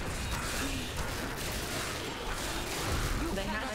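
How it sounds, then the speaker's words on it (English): Dense, continuous rumbling blasts and crackling bursts overlap in a loud, chaotic barrage of explosions in the game Diablo III: Reaper of Souls, with faint voices mixed underneath. "all those explosions are Birch just exploding the bodies."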